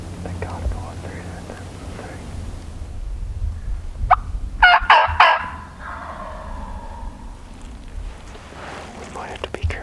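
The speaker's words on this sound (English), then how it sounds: "he's gobbling good" A wild spring turkey gobbles on public land in Georgia, giving a loud, rapid burst of rattling gobbles midway through over quiet outdoor ambience and soft whispered talk.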